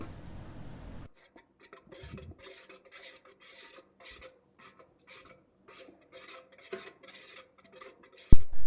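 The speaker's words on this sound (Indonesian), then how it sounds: "Angkat dan aduk sebentar untuk menghilangkan uapnya." A spoon scrapes and rasps steadily around a pot of Milo ice cream mixture, close and fairly quiet, in a run of short strokes that ends in a louder clatter.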